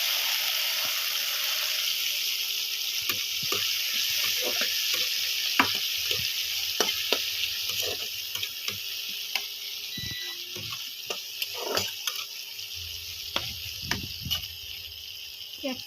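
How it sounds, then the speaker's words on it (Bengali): Chopped tomatoes with garlic sizzle and fry steadily in a pan for an egg chilli curry, a continuous close hiss broken by occasional scraping stirs of a spatula. "টমেটোটা ভাজা হয়ে গেছে"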